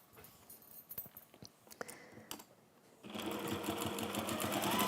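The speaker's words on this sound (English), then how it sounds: "So I'm just going to sew down these." A sewing machine stitches down pieces of crafty velvet fabric, a steady loud whirring run that starts about three seconds in and follows quieter handling and clicks.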